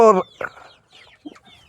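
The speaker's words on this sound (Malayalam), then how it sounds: "നല്ല ഇണക്കമുള്ള കോഴികളാണ് തലയൊക്കെ നീട്ടുന്നുണ്ട്" Chickens of a special booster breed on a poultry farm give a few short clucks near the microphone, starting with one loud call and then trailing off into quieter scattered clucks.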